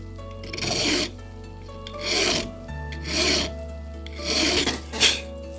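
A hand file rasps the end of a tapered clock pin held in a pin vise, shaping it to a 45-degree bevel. Four or five close, distinct strokes come at a steady rhythm, each a gritty scrape separated by short pauses.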